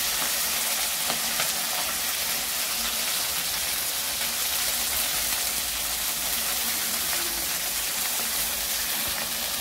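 Fenugreek leaves and green chili sizzle steadily in a hot pan while being stirred, a dense, even crackle of frying that runs unbroken throughout without any voices.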